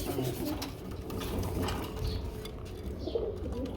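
Low, rolling pigeon coos fill the background continuously, several birds murmuring at once with a few faint clatters mixed in.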